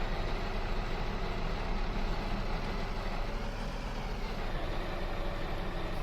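A Caterpillar C13 engine, its sound taken from Cat equipment, drones steadily in Farming Simulator 19, giving a constant low, rumbling hum with no breaks.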